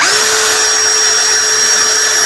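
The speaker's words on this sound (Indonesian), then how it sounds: "Mana ada bor 100 ribuan yang sekenceng ini ya." A cheap Kepu 16.8V brushless cordless drill runs at full speed with a steady, loud, high-pitched whine that holds constant throughout and is heard alone.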